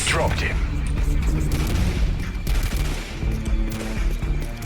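AK rifle fire in Call of Duty Modern Warfare 2, loud rapid bursts of automatic shots with booming impacts layered over game noise, while a player talks throughout.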